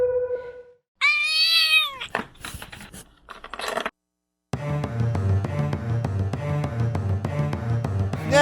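A cat gives a loud, close meow, followed by some scraping and clattering, then a pause before steady music with a regular beat starts up.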